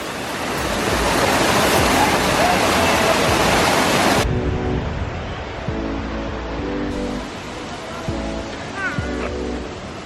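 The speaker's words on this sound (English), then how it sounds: "Do you like waterfalls?" Waterfall water at Nine Penny Branch near Charlestown rushes and splashes in a loud, broad steady roar up close, then drops to a softer wash in which a voice can be heard speaking.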